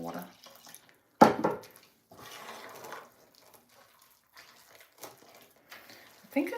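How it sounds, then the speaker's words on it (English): Water is poured into a bowl of kimchi pancake batter in short splashy bursts, one stronger pour followed by smaller trickles, with quiet breaks and faint voice-like sounds between. "So let's put some water in."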